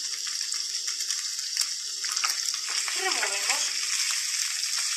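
Rice and curry powder stirred in a pot of boiling water, a steady bubbling hiss with brief scraping swirls from the spoon near the middle, while a voice talks over it.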